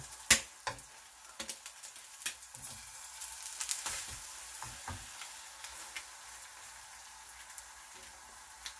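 Egg toast fries in a pan with a steady close sizzle, punctuated by sharp crackles and pops, louder early on and settling into a gentler hiss.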